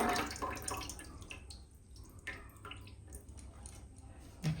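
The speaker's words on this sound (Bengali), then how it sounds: "জলটা চিপড়ায় ফেলে দিই।" Water squeezed from washed, salted Bhola fish pieces drips and splashes into a kitchen sink, a close wet trickle that is louder at first, then settles into scattered drips.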